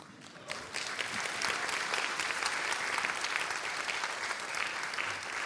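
Audience at the Rahvalõõts 2016 accordion final applauding, a steady, dense wash of hand clapping that starts quickly and holds strong throughout.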